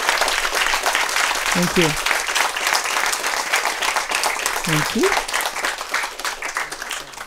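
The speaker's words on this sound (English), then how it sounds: "Let's give her a big round of applause." An audience applauds steadily after a talk on the Hubble Space Telescope, the dense clapping sustained throughout while a speaker briefly thanks the crowd over it.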